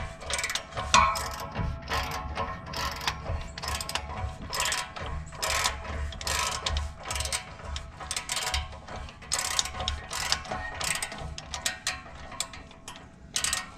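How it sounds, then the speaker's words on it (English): A ratchet wrench loosens a muffler clamp on a vehicle, clicking in quick repeated bursts with short pauses between strokes, close and fairly quiet, with no talk. "Loosen up our clamp."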